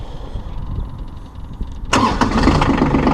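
A Massey Ferguson 1526 Hydro Premium compact diesel tractor cranks and fires after a quiet lead-in, then settles into a steady, close, loud idle.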